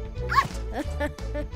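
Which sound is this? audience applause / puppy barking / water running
puppy barking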